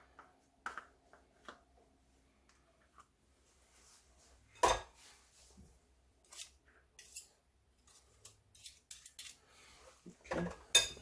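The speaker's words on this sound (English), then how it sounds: "we'll just work that in as well and just keep whisking that around" A whisk works double cream into a vanilla cheesecake mixture in a bowl, giving sparse, irregular clinks and scrapes against the bowl with quiet pauses between them and a cluster of sharper knocks near the end.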